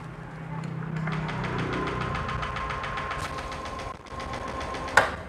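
A 2018 Honda Lead 125 smartkey scooter is started and runs at a steady, fairly quiet idle, its engine tone ticking evenly, then dips and ends with a sharp click.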